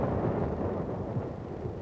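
4.2-inch heavy mortars fire in a Korean War barrage in hilly terrain, giving a loud, continuous rumbling roar with overlapping blasts and no clear gaps between them.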